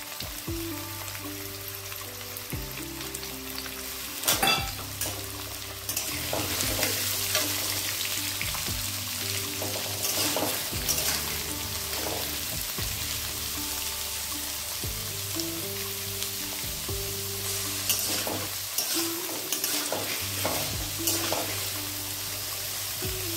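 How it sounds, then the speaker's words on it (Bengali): Chopped potatoes and minced onions fry in a pan for Bengali-style ghughni, giving a steady sizzle throughout with a few brief clatters of stirring and no voices. "এবার দিয়ে দেব কেটে রাখা আলু, আর দিয়ে দেবো কুচি করা পেঁয়াজ।"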